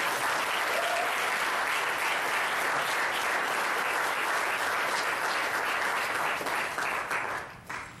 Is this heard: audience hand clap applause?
yes